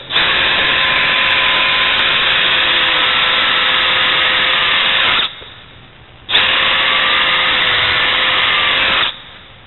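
A power drill bores a pilot hole in wood for a screw chuck before bowl turning, a loud, steady motor whine that runs for about five seconds, pauses briefly, then runs again.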